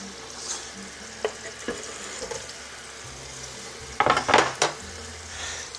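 Onion frying in vegetable oil in a soup pot, a soft steady sizzle throughout with a few sharper crackles and a cluster of louder stirring clatters near the end; no one talks.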